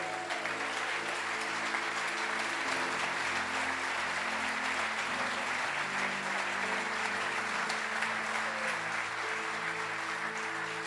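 A church congregation applauds the Lord in a sustained, even wash of clapping that holds for about eleven seconds, with a low organ or keyboard chord droning underneath.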